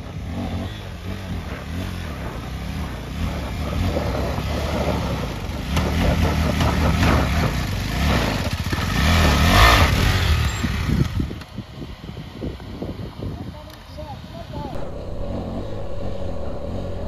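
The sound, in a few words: KTM 390 Adventure motorcycles climbing an off-road track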